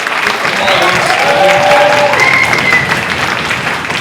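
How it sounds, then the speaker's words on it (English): Audience applause for Paul at a live event, steady dense clapping filling the room at close range from start to end, with some crowd noise mixed in. "Let's give a massive round of applause to Paul."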